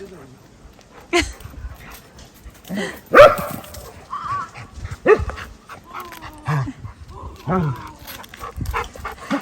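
A dog barks and whines on and off, short yelps breaking through as a person keeps talking nearby.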